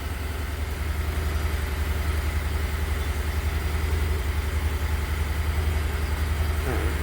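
A 2018 Ford F150 2.7L engine idles with a misfire, giving a steady, close, loud low rumble with a slightly uneven pulsing throb.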